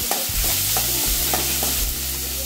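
Tomato sautés in a hot pan for sambar, with a loud continuous sizzle and a few rhythmic scraping strokes of a spoon stirring it up close.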